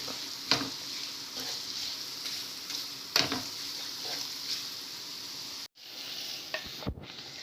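Minced meat, tomato sauce, parsley and onion for lasagne are stirred in a hot pan, giving a steady sizzle with a few sharper scraping knocks of the spoon and a brief dropout near the end.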